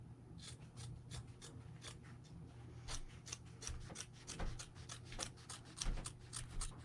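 Scissors snip through folded fabric in a quilting or sewing studio, a quick run of about fifteen sharp crisp cuts, close and fairly quiet, over a faint steady background hum.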